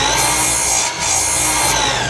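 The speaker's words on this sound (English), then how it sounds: "using a miter saw, we're going to cut 5 pieces at a 45-degree bevel" A miter saw cuts fence picket wood at a 45-degree bevel, a loud, steady whine of the spinning blade running continuously, dipping briefly mid-cut before resuming, with no talking.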